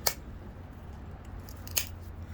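Crisp little snapping clicks from pressure flaking along a flint blade edge during trimming and shaping, two distinct sharp ticks about two seconds apart over a steady low background.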